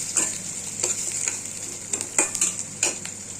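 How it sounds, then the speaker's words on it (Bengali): Onions fry in hot oil for a dried-fish curry, a continuous close sizzle broken by repeated scraping and clinking strokes of a spatula against the pan. "গরম করিয়া দিয়ে দিলাম পেঁয়াজ। পেঁয়াজটা লাল লাল হোক,"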